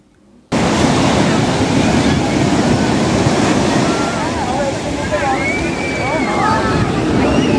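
Sea waves roll onto Puri beach in Odisha, a loud, continuous roar of surf and wind that starts abruptly and stays full, with faint voices now and then.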